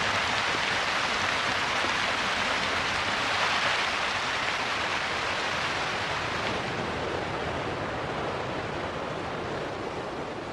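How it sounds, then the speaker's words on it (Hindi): Heavy rain pours down in Texas as a dense, roaring wash of noise, loud and unbroken, easing slightly toward the end, with no speech. "टेक्सास में जब भी बारिश होती है, मूसलाधार ही होती है।"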